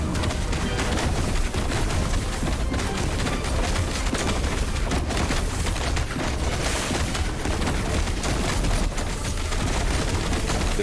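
Dense, continuous barrage of impact and shooting effects from vines attacking an enemy in the video game Last Epoch, loud and busy throughout without pause.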